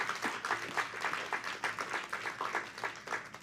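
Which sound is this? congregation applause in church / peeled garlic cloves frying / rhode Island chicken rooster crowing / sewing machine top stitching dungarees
congregation applause in church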